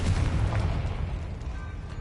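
Confringo blasting spell in Hogwarts Legacy on PS5: a heavy, low rumbling explosion, loud and close, fading into a dull roar.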